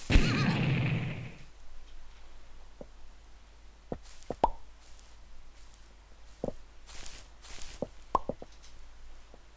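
A horse in MineClone 2 for Minetest gives a loud whinny at the start, then quieter clip-clop steps and soft thuds follow.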